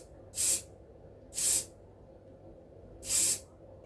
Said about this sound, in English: I'm just using hairspray